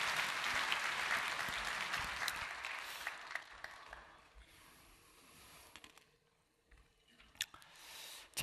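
A church congregation applauds with dense clapping at first, the noise thinning and fading over several seconds into scattered claps and near quiet, with a few stray sounds near the end.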